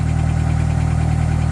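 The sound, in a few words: loud exhaust of 1998 Honda Accord with holed muffler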